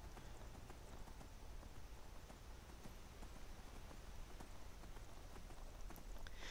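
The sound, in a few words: horse hooves galloping in Skyrim video game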